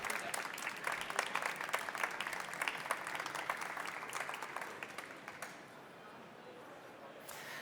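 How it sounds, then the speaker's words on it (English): Audience applauding at an electronics awards ceremony, dense, loud clapping from a crowd that fades toward the end. "Give them a round of applause"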